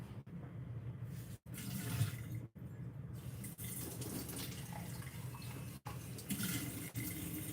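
Water from a store-bought bottle pours in a steady, close, quiet stream, broken by several short pauses and restarts, with no talking.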